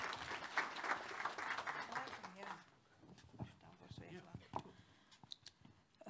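An education conference audience gives a brief burst of clapping as a parliamentary committee chair is introduced. The applause fades after a few seconds, leaving scattered claps and a nearby voice.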